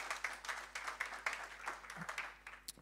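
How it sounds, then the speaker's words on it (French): A church congregation claps for its pastor. The applause is soft and distant, with a loose, rhythmic patter of hands that stays fairly even across the short stretch. "tu peux applaudir ton pasteur, toutes les équipes qui sont autour de toi"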